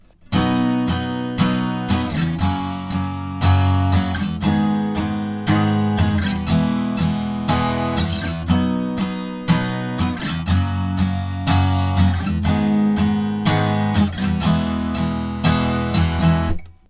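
Acoustic guitar strumming the chorus chords of a song in a steady down-down-down-down-up pattern, loud and close, with regular strokes and chord changes and no talking.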